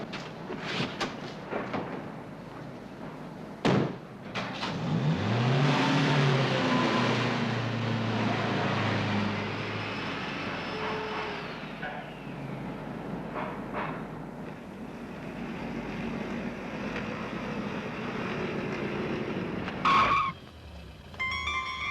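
Car driving and skidding on a road in a 1960s-style television drama, engine revving loudly with tires squealing and skidding, a long sustained slide, then settling to a steady engine drone before a final bump.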